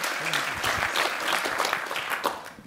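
Audience applause at an Earth Engine user summit session, a full continuous burst of clapping from a large room, moderately loud throughout.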